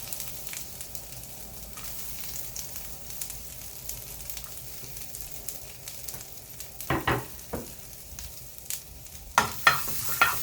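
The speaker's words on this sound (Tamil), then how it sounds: "நம்ம தேங்காய் திருவி வச்சுருக்கோம் இல்லையா அதையும் நல்லா ஃப்ரை பண்ணி எடுத்துக்கலாம்" Grated coconut fries in a pan with a soft continuous sizzle, joined later by louder scraping stirs of a spoon against the metal.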